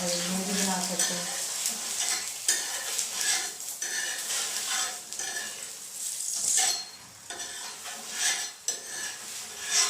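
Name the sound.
paratha cooking in ghee on a pan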